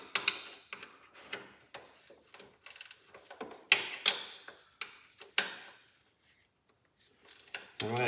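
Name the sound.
wrench removing steering box bolts on Cub Cadet tractor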